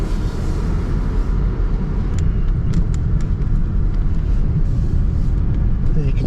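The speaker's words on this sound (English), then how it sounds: "I'm just going to go around the parking lot, make sure I got no more ABS weird stuff happening" Chevy Equinox, checked after ABS and brake trouble, rolls slowly around a parking lot, its low steady engine and road rumble continuous throughout with a few faint clicks and ticks, no talking.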